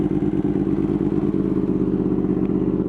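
A Yamaha R1 sport bike engine idling just after a cold start, a loud, close, steady throbbing drone with a slightly uneven mechanical clatter and no speech.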